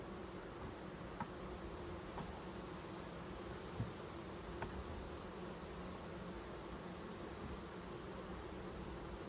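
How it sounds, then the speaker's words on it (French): Bees drone in a steady, dense hum around an open hive during an August inspection, faint but constant, with a few soft clicks and knocks from handling the frames. "On voit des abeilles à du pollen aussi."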